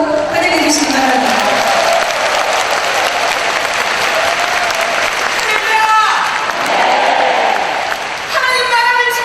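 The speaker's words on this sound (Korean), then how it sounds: "이슬람 강의를 해주실 이혜훈 국회의원 큰 박수로 환영해 주시기 바랍니다." A large church assembly gathered for a combined worship rally in Gwangju claps in loud, sustained applause for an arriving speaker, a dense wash of hands that fills the hall and runs the whole way through, with voices mixed in beneath it.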